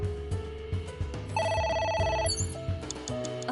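A telephone rings inside the video game AI: The Somnium Files, an electronic trilling ring over game music, a short burst of tones at moderate volume.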